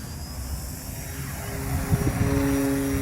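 An ArtTech Pilatus Porter PC6 RC model plane takes off with flaps down, its electric motor whining and rising in pitch as the throttle opens, a steady buzzing drone that grows louder and fuller over a couple of seconds, close by outdoors.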